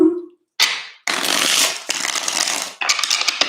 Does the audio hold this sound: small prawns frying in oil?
no